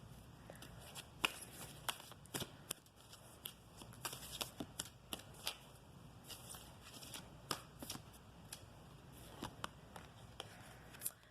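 A Halloween oracle card deck being shuffled by hand, with soft repeated riffling flicks and card snaps scattered across the whole stretch, close and quiet, with no talk.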